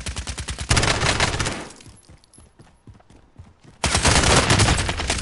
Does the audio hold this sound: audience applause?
no